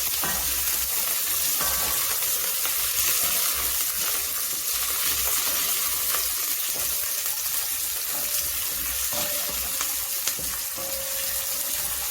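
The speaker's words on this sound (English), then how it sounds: "I'm going to add my potatoes and let them fry with the onions." Potatoes and onions frying together in a pan for Kenyan muthokoi give a steady, close sizzle that holds evenly throughout with no talking.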